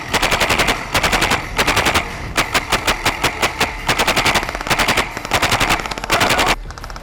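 Tippmann airsoft M4 gas blowback rifle firing in rapid bursts, sharp repeated snaps in several strings with short pauses between, close and loud throughout.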